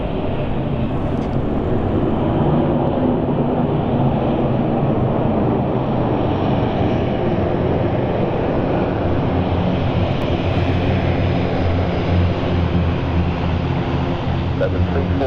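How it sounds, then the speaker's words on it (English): A Loganair passenger airplane lands at London City Airport, heard as a steady, loud, broadband roar of engine and rushing air that sustains throughout with wind noise on the microphone. "That's a very smooth landing from the Logan Air crew."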